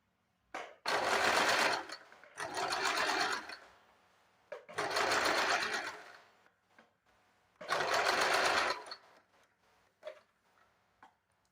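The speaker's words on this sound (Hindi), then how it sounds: "इस तरह से पकड़ के एक तिरछे में सिलाई लगा देना है।" A sewing machine stitching a diagonal seam in a blouse lining, running in four loud bursts of rapid whirring stitches separated by pauses and faint clicks, close and alone.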